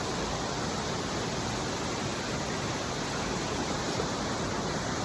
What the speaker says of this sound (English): I found some waterfalls.